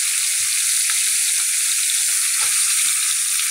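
Food fries in a pan with turmeric being stirred in, giving a loud, continuous sizzle with a few soft scraping strokes.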